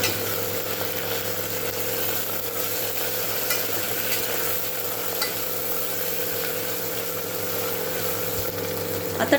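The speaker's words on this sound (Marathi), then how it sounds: "कढीपत्ता टाकायचा आहे आणि जेव्हा तुम्ही फोडणी अशी बसवता ना तेव्हा त्याच्यातच फोडणीतच थोडीशी कोथिंबीर पण टाकायची आहे" Tempering of curry leaves and chopped coriander in hot oil for a whole masoor lentil dish, a steady close sizzle with light stirring scrapes over a constant low kitchen hum, no talking.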